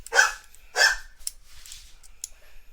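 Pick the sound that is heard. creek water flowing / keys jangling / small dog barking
small dog barking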